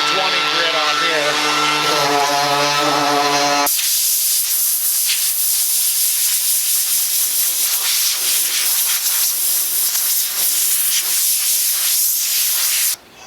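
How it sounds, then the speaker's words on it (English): Sandpaper of 220 grit rubbing over an old wooden door, a steady broadband hissing scrape that runs continuously for about ten seconds after a few seconds of voiced talk at the start. "I'm going to sand this down a decent amount"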